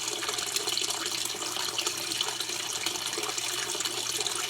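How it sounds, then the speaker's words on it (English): Water pours steadily through a paint strainer and back into a hydroponics reservoir in a spare-bedroom grow setup, a continuous close splashing trickle with no talk. "So that's water gets dumped in there, gets filtered and flows right back into the reservoir."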